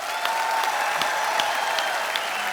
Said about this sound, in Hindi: मैं चाहूंगा कि जोरदार तालियों से एक बार स्वागत किया जाए